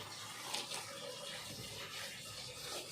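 Water is poured steadily over car glass to rinse away hydrofluoric acid cleaner, giving a continuous close gushing splash with no talk.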